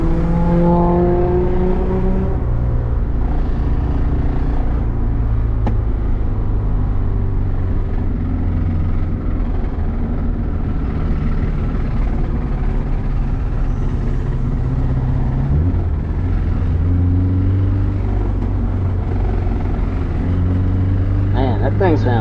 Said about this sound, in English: Oh no, that's his motor dying there.